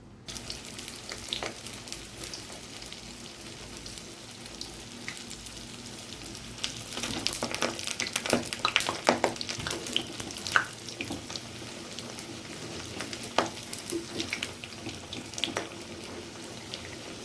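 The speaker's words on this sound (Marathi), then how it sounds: "आपलं तेल चांगलं तापलेलं आहे तर आपण तळायला सुरुवात करू बट्टी" Batti dough balls frying in hot oil in a kadhai give a steady, close bubbling sizzle that swells and crackles more busily partway through, with scattered pops and no voices.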